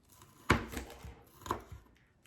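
A knife chops green onion into thin ringlets on a cutting board in a kids' knife-safety lesson, giving two crisp, close taps about a second apart, with a few softer knocks between them and no talk.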